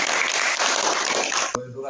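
Audience applause at a village ceremony honouring scholarship-winning students and their parents, steady clapping that ends abruptly, with a voice speaking over it.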